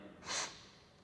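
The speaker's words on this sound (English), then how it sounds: "Take a sharp breath in" A single quick, sharp inhalation through the nose, close and fairly loud, with nothing else heard before or after, taken at the start of a guided breathing exercise.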